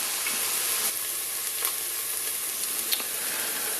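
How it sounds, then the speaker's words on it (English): Onions sizzle steadily in a frying pan for chilli con carne, a dense even crackle with a few sharp scrapes and clicks from stirring, close and alone without any voices. "just keep the onions moving for, like I say, 5 minutes until they soften"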